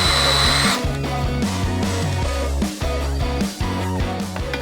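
A power drill whines loudly, its motor pitch rising and falling in several short bursts as it bites into a rotted chiminea, with brief pauses between.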